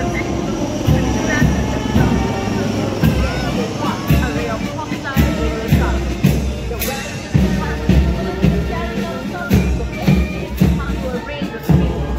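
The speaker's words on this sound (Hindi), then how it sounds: "Apache helicopter" An Apache helicopter passes overhead during a Republic Day air show rehearsal, a loud rumbling rotor and engine roar that swells and throbs for several seconds over crowd noise and talk.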